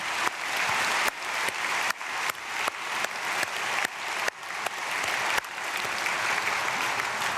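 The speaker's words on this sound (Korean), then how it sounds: "박수해 주시겠습니다" A church congregation at an early-morning prayer service at Myungsung Church claps warmly and steadily, dense full applause filling the room for several seconds, with no speech over it.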